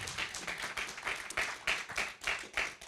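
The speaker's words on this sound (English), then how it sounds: "We can give you a warm round of applause." Audience applause following a keynote at a space cybersecurity conference, fairly quiet rhythmic clapping from a modest crowd with rising and falling swells throughout.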